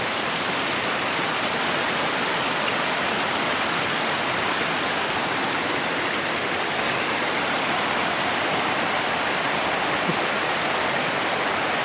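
A clear stream of snow runoff in the Okanagan region flows steadily, giving a dense, continuous close rush of water with no pauses and no voices.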